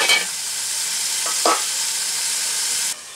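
Leafy greens go into oil tempered with black mustard seed and a pinch of asafoetida, making a steady, fairly loud frying hiss with a few sharp stirring scrapes and a sudden drop in level near the end.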